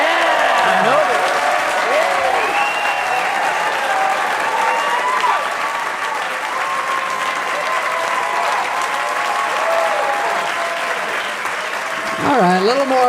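Studio audience applauds and cheers as a guest arrives on a talk show, a loud, sustained wash of clapping lasting throughout, with voices talking over it and rising again near the end.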